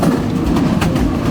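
A passenger train runs through jungle near Sylhet, Bangladesh, a steady close rumble of wheels and carriages with faint clatter throughout, no talking.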